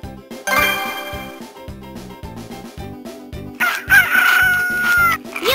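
Cartoon rooster crow in the Bubble Guppies DS game, a loud drawn-out cock-a-doodle-doo rising over bouncy looping background music.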